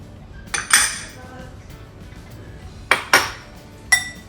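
Yogurt-based Caesar dressing is stirred in a bowl with almonds, parmesan and tomatoes, giving three separate bursts of clinking utensil scrapes against the dish, with quiet pauses between them.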